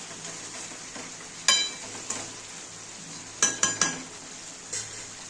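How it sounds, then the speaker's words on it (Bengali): Mutton kosha being stirred in a pan, Bengali style, with a steady sizzle of frying under a few scraping spoon strokes and metallic clinks against the pan, no talk. "আমি না মাংসটা ঢেকে দিয়েছিলাম, আবার একটু নেড়ে দেবো।"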